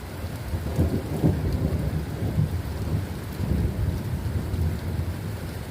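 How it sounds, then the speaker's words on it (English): A rainstorm under a flash flood warning brings rain hissing steadily while low, rumbling thunder rolls through in the background, continuous and fairly close, with no talking. "some really good thunder right there."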